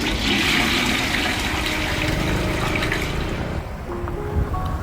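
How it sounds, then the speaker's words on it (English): A toilet flushes up close in a restroom, a loud rushing gush of water that fades into softer trickling and refilling as the tank tops up. "the sweet, victorious sound of a flush."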